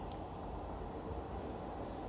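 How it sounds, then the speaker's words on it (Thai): Steady rumble of Bangladesh's first electric train line running along the track, a continuous low roar with no clear breaks and no talk. "ลองมาดูรถไฟสายแรกของบังกลาเทศครับ"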